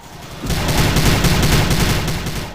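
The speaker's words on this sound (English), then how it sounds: "when the grenades are going off, they sound a bit like a kettle boiling" Grenades explode in the video game Prey, one continuous loud roaring, crackling barrage that swells in and fades out over a couple of seconds with no speech.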